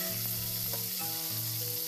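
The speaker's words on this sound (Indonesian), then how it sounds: "Ini kita goreng sebentar aja, jangan lupa untuk dibolak-balik" Tuna fries in a hot pan with oil, giving a constant crackling sizzle close by along with a steady underlying hum.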